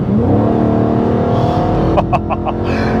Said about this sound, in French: on va aller sur l'autoroute, faire une petite accélération, faire beugler ce petit moteur-là